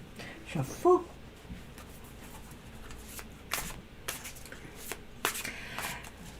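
Tarot cards shuffled by hand, soft papery riffles and slaps in short bursts scattered over several seconds, fairly quiet and close, with faint voices and room noise beneath.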